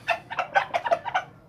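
A Mexican rooster clucks in a quick run of about seven sharp, close calls spread over a second and a half, with no voices alongside.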